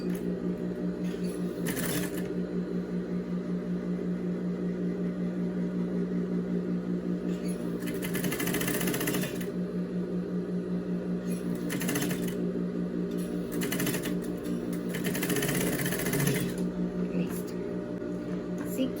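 Sewing machine stitching a seam of a pajama set in fabric, a close, steady mechanical whir in several bursts with short pauses, while someone talks throughout.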